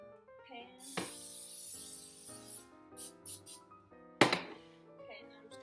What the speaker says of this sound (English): So I'm gonna spray the pan